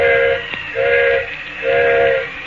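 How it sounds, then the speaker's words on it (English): Steam train whistle in an old radio drama, sounding a few drawn-out blasts separated by short gaps over a background hiss, loud and close with no voices. "Engineer's whistling for a flagman."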